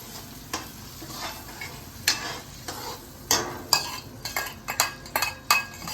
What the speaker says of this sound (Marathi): आता आपण ही जी मगाशी कांदा आणि टोमॅटोची अंकिता प्युरी करून घेतली ती आपल्याला ह्या तेलात टाकायची आता हो, ती छान अशी मिक्स करायची